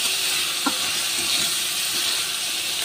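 Onion and garlic paste frying in a wok, a steady broad hiss and sizzle holding evenly throughout with a few faint clinks near the start.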